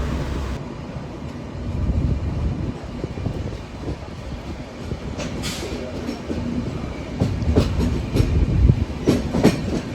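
The Konkan Kanya Express passenger train rumbles steadily with low rolling noise and occasional clanks and hisses, heard close at a platform at Kudal station, with no talking.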